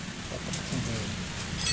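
Rainwater runs and patters steadily from a roof gutter, a close continuous splashing wash with brief droplet ticks and no voices.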